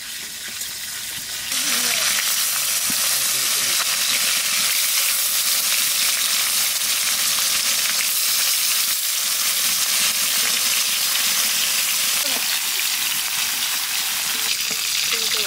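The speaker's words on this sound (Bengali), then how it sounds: "ভেজে দেখি কতদূর কি হয় তেল।" Hilsa fish frying in hot oil, a loud, dense, continuous sizzle close up that swells sharply after a brief quieter start and holds steady throughout, with faint scraping beneath.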